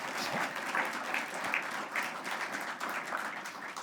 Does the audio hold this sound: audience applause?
yes